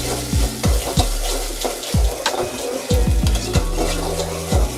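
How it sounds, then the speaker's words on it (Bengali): Green chili, garlic and ginger paste is stirred and fried in a pan for chicken maqluba, with repeated scraping knocks of a spoon against the pan over a low, steady sizzle. "এবার আমি দিয়ে দিচ্ছি কাঁচামরিচ বাটা, রসুন বাটা আর আদা বাটা। এবার এটাকে আমি একটু ভালোভাবে নেড়ে নেব।"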